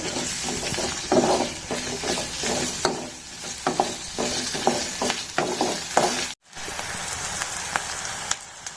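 Garlic and ginger fry in a pan for mint chutney: a steady close sizzle broken by stirring scrapes and taps, with one brief dropout near the end.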